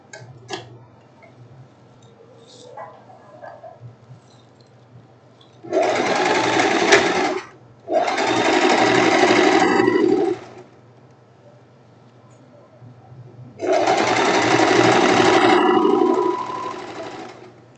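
A domestic sewing machine stitches the side seams of a silk tank top, running in three loud, steady bursts of fast, even whirring, separated by quiet pauses with a faint low hum and small clicks.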